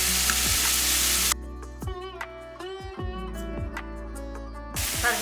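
Minced garlic and ginger sizzle in hot oil for a large batch of mutton curry: a dense, steady hiss at the start and again at the end, with a tonal, ringing passage in between.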